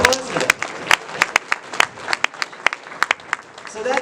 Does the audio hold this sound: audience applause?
yes